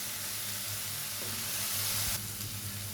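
Garlic, ginger and green chilli paste fries in a pan for a spinach dish, giving a steady, even sizzle with no talk.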